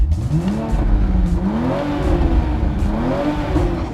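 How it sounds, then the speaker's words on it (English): A 2020 Toyota Supra engine in sport mode revs continuously, its loud exhaust note rising and falling in a deep, throaty roar close by. "the engine in sport mode for rapid response and a louder exhaust noise"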